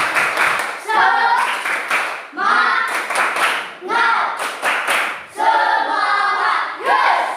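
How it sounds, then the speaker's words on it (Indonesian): A school class performs a rhythmic spirit clap together, bursts of patterned group clapping and slapping in repeated phrases, with children's voices chanting along, loud and close. "Kita tepuk semangat dulu, tepuk semangat"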